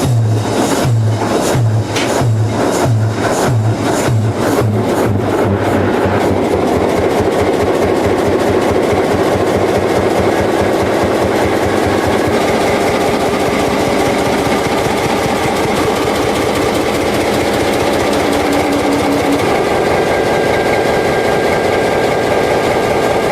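A 1940s GE MD 567 9.3-litre V12 diesel locomotive engine running, a loud, steady low throb that starts with slow, distinct firing pulses and settles into a continuous heavy drone with mechanical vibration, close and alone.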